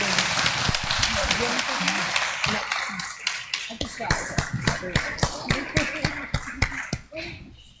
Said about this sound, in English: give a giant round of applause for this wonderful educators